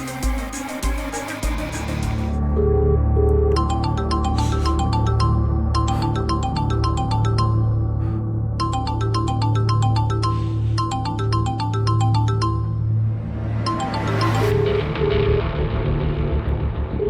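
A mobile phone ringtone plays in repeated bursts of bright electronic notes over a steady low rumble and background music, lasting through most of the stretch.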